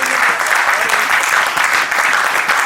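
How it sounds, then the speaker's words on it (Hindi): An audience claps steadily through a memento presentation at a Marwari youth forum's closing session, a dense, loud wash of applause that fills the whole moment without any talk. "जब मोमेंटो दे रहा है तो कम से कम ताली तो बजाओ"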